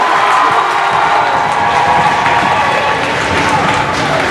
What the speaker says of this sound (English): Noah, let's give him a nice round of applause.